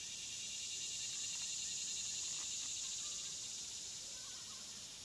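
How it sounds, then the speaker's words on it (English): Cicadas in Louisiana drone steadily as a dense, high insect chorus, swelling and easing slightly while staying constant throughout, with no voices. "and we used the cicadas."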